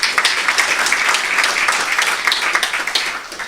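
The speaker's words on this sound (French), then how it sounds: "Et je vous demande si vous auriez la gentillesse de l'applaudir et d'applaudir Dar el-Maghrib." An audience at a conference in Morocco breaks into applause, a full, close, continuous patter of many clapping hands lasting a few seconds and easing slightly at the end.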